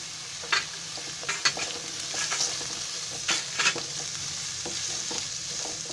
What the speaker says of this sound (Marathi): आपण फ्राय करताना आहे ना, गॅस फास्ट ठेवायचा